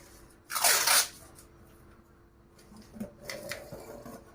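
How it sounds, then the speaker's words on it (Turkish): Masking tape is pulled from the roll and torn while kitchen tiles are prepared for painting. A sharp ripping burst comes first, followed later by softer crinkling and tearing sounds up close. "kağıt bant çekiyoruz."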